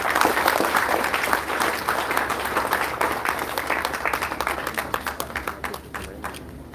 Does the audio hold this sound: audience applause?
yes